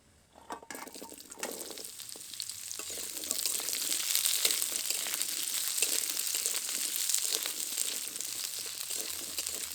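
Onion pieces sizzle and crackle steadily as they fry in hot oil with chillies and a pinch of asafoetida for onion pickle, the frying growing louder and denser after a quieter start, with occasional stirring scrapes and no talk.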